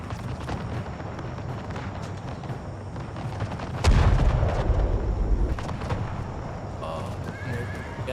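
Cavalry horses whinny and gallop with clip-clopping hooves in the battle game Empire, Berlin 1758, alongside booming artillery and gunfire, one heavy blast standing out, with voices talking faintly.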